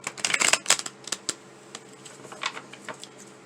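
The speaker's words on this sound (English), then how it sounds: "that did not shuffle very well, did it?" A deck of tarot cards is shuffled by hand, giving a quick riffling clatter that starts loud and busy and then thins out into scattered soft flicks and taps. It is close up, with no talking.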